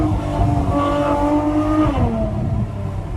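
A Ferrari 812 Superfast with a 6.5-liter naturally aspirated V12 revs hard, its pitch climbing and then dropping sharply as it echoes off a nearby wall.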